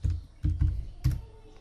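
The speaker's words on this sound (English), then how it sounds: "type your computer password" Keys are pressed on a computer keyboard to enter a password: four or five soft, close thuds in an uneven rhythm over under two seconds.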